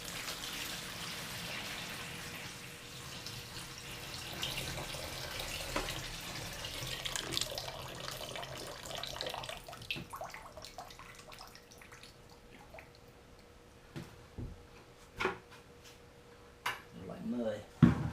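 Water is poured from a container to fill another one while making worm compost tea outdoors. A soft running wash fades into scattered splashes and knocks, with a person talking over it.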